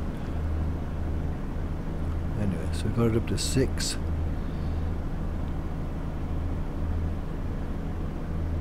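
A diesel train engine in Train Sim World 3 works under load on the London Paddington to Slough line, a steady low droning rumble throughout, with someone talking briefly over it partway through.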